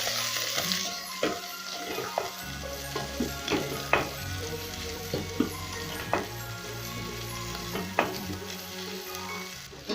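Beef sizzles and fries in a hot pan with garlic and golden onions for pilau with meat and potatoes, a steady crackling hiss broken by sharp clinks and scrapes of a utensil against the pan.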